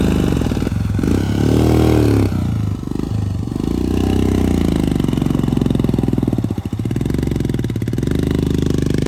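A motorcycle labors up a rough mountain trail toward a hilltop monastery, its engine droning loud and steady with rising and falling revs, mixed with clattering and scraping from the rocky ground.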